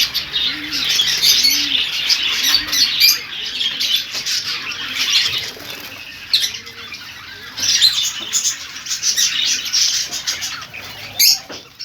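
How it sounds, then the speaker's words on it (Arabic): Caged lovebirds in a bird shop give a dense chorus of shrill chirps and squawks with bursts of wing flapping, close and loud throughout. "هذا طير حب كله كراكيب."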